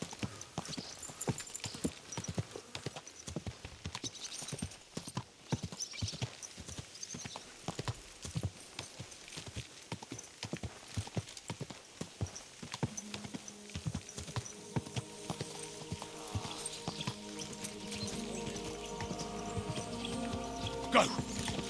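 A horse walks slowly in the medieval game Kingdom Come Deliverance II, its hooves clip-clopping in a steady rhythm, fairly quiet, with a whinny and game ambience and music building toward the end.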